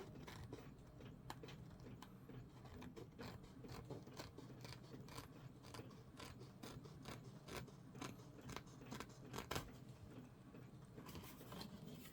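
Scissors trim around cardboard packaging in a quick series of faint snips and crisp cuts, a soft rhythmic clicking and rustle close up with no talk.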